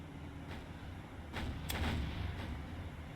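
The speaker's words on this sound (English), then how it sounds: "We're just straddling her with our shots, but she is still shooting back" Naval gunfire from warships in War on the Sea, a few distant booming shots with one sharper crack near the middle over a low, steady rumble.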